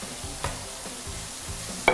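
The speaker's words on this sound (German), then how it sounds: "das Hack darf in die Pfanne" Minced meat frying in a pan for a burger, a soft steady sizzle with a few light scraping stirs and a brief sharper clink at the end, no talking.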